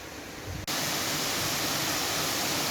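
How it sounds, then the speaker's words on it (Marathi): A loud, steady roar of the Anubharati waterfall, falling into a very deep pool, broadband rushing that fills the whole clip after a brief quieter moment at the start. "हा अनुभरतीचा धबधबा दिसतो आपल्याला"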